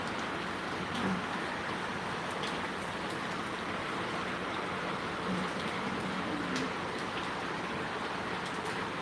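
Rain falls outside a home kitchen during a thunderstorm, making a steady, even hiss throughout with no talk.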